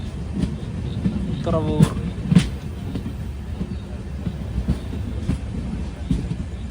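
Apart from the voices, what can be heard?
Guruvayur-Thiruvananthapuram Intercity Express train arriving at station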